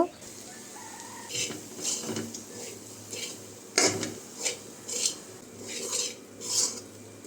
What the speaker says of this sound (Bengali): এই পর্যায়ে দিয়ে দিব ভেজে রাখা ডিমগুলো তারপর ওগুলো আবার ভালোভাবে মিক্সড করে নিব